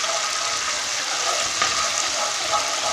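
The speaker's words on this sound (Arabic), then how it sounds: "تزيدها معاهم تقلى مليح" Onion slices frying in a pan for a red sauce, a steady close sizzle that holds evenly throughout with no talking.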